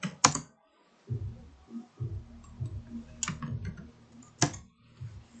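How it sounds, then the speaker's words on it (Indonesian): Someone typing script code on a computer keyboard: soft, irregular clicks in short bursts with brief pauses, close and fairly quiet. "yang berikut kita ketik scriptnya."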